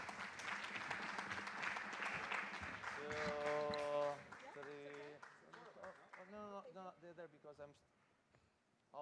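Audience applause for panelists at the Cyprus Fintech Summit 2023 rises as a dense burst of clapping for about three seconds, then fades under a person talking.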